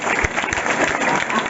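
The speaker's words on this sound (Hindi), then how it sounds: "चलिए एक जोरदार ताली सभी के लिए।" Hall audience at a gathering for selected Bihar Police candidates giving a quick burst of loud, dense clapping with a few sharper individual claps standing out, lasting only a moment.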